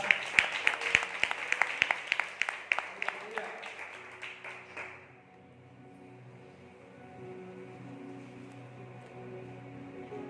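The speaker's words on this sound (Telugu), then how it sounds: "ఒకసారి చప్పట్లు కొట్టి దేవుని స్తుతిస్తారు" A church congregation at a Sunday service claps in praise, a loud run of rhythmic, evenly spaced claps that stops after about five seconds and gives way to a quieter, sustained tonal backdrop.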